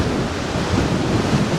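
Ocean waves and wind in a long fjord as a vessel heads out from Greenland toward open sea, a steady broad roar of surf and wind rumble buffeting the microphone.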